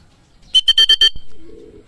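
A racing pigeon arriving at the loft after a 117 km training sprint race, giving a quick run of five loud, close wing flaps or claps, followed by a softer low coo.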